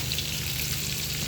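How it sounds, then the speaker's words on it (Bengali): Katla fish pieces sizzle steadily in hot oil in a pan, a continuous dense crackling hiss with no pauses, close and fairly loud. "আমাদের মাছটা ব্রাউন কালার করে অপর পাশটি ভাজা হচ্ছে"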